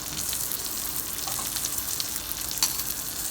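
A chicken biryani rice mixture sizzles over a high flame, a steady close frying hiss with faint crackles and a small clink near the end.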